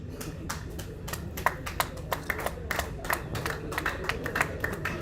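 Scattered hand claps from a small group, sharp and uneven, over a low murmur of crowd noise.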